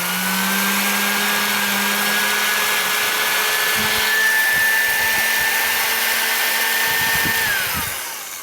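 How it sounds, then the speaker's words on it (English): A vintage 1940s Milwaukee S-114 Hole Shooter 1/4-inch electric drill runs steadily with a whining motor hum at single speed, close and loud, then winds down near the end. "But the drill does runs pretty good, actually."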